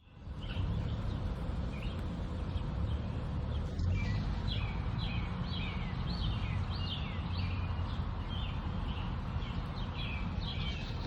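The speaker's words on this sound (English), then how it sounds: "So I'm going to play those birds chirping" Birds chirping in a park, repeated faint high chirps and short trills over a constant rushing background hiss, steady across the whole stretch.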